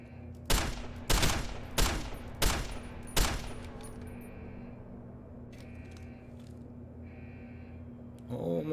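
Five sharp, loud gunshots fire in quick, regular succession in Deus Ex: Human Revolution, then give way to a quieter background hum and scattered game sounds.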